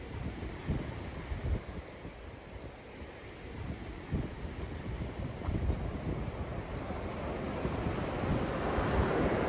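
Surf rolling onto a coastal California beach at low tide, a continuous broad wash of breaking waves mixed with gusty wind buffeting the microphone, building slightly louder toward the end, with no voices.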